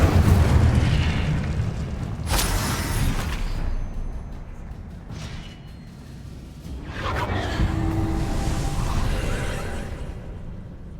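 Spell effects from Hogwarts Legacy on PS5, including an Incendio fire spell, burst out as whooshing, booming blasts and crackles over a rumbling game soundscape, with several sharp surges across the stretch.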